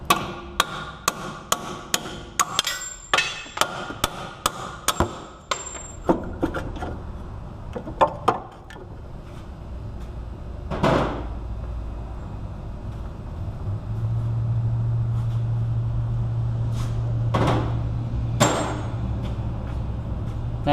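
Hammer blows on a Dodge Caliber wheel hub as parts are beaten out: a rapid series of sharp, loud metallic strikes for several seconds, then the blows stop and a steady low hum lingers.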